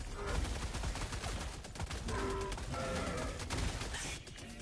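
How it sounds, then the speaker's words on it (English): A sentry gun in the video game Helldivers 2 fires rapid bursts of automatic gunfire against enemies amid a dense, chaotic mix of battle noise, and the shooting continues steadily throughout. "My sentry's taking them out, but they killed me in the process."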